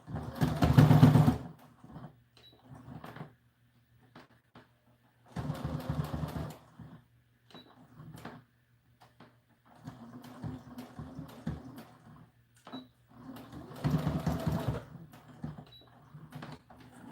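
A sewing machine stitches a doll dress in several short whirring bursts, each a second or two long, separated by quiet pauses and fainter handling noises.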